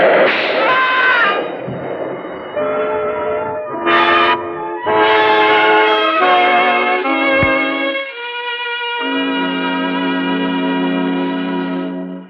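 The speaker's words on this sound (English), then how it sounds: "You're waiting for the elevator train to drown out the shot." An elevated train roars past nearby with screeching, whistling metallic tones and shifting harmonic wails, loud and sustained before settling into a steady drone.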